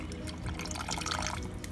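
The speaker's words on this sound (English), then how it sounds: "I added some water in there for stretch it." Water poured into a pot of Jamaican oxtail stew, a steady splashing trickle with light drips, continuous and close for under two seconds with no talk.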